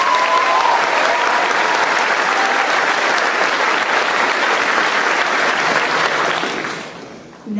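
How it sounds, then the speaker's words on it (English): An audience at a school senior recognition ceremony applauds award recipients in a long, full, steady ovation that fades toward the end. "Give them a round of applause."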